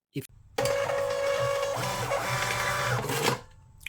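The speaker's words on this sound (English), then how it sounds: "you should hear the printer and see the printer auto print" A Star TSP100 IV WLAN receipt printer auto-prints a test order, its thermal print mechanism buzzing steadily for about three seconds after a brief click, loud and close with no talk over it.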